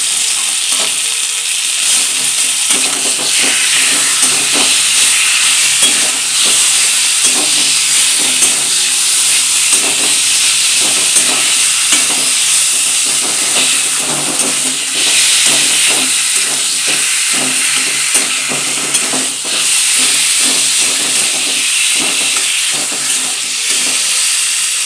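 Taro greens fry in hot oil for a vegetarian dish with peanuts, giving a steady, loud sizzle and hiss throughout with faint stirring clicks; no one speaks.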